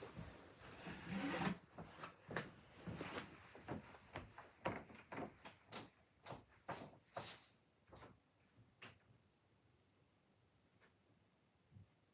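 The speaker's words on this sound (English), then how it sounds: "I just thought I heard something at the door" Knocking and handling sounds at a door, a string of sharp, irregular wooden knocks and clatters close by, loud at first and then thinning out and fading into quiet toward the end.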